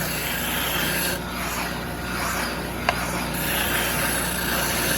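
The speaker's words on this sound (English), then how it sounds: "with this sander, you can just kind of work each one of those little grooves, little divots" A sander works back and forth over the small grooves and divots of a wooden band saw intarsia box, a steady close rasping rub lasting throughout with one sharp tick midway.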